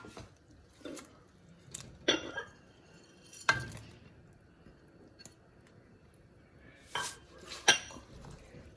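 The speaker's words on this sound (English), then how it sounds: "All right, now you're stirring and allowing it to cook." A spoon clinks and scrapes against a pot of Jamaican rice and peas as it is stirred, a few distinct metallic knocks spaced out over soft, quiet background, close up and without speech.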